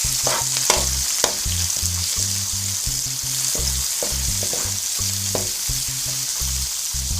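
Onions fry in a pan with browned garlic for a sardine and spinach sauté. A dense, continuous sizzle sits over a rhythmic low hum from the stove or an extractor, with a couple of utensil clicks and no talking.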